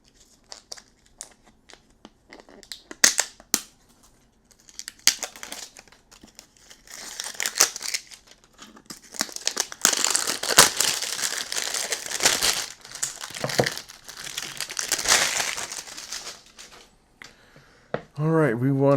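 Cellophane wrap is peeled and crinkled off an Oktava MK-012-03 microphone box up close, loud crackling bursts building and fading over several seconds, with a voice talking in places.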